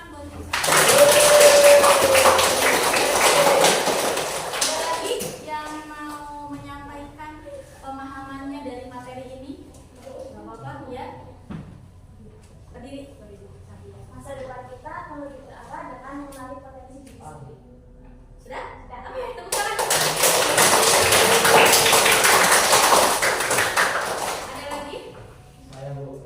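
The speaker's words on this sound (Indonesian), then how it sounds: "tepuk tangan buat Rizat" A classroom breaks into two bursts of dense clapping, one at the start and one near the end, each lasting several seconds. Between them a teacher's voice and children's chatter carry on over quiet room noise.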